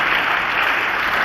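A congregation at a church gathering claps loudly and continuously, a dense wash of hand claps filling the whole brief moment.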